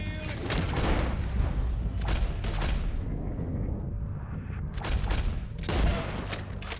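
Sustained gunfire and booming shots from a shootout in the Red Dead Redemption 2 mission Old Friends, with rolling bursts that swell louder around the middle and end over a dense rumbling background.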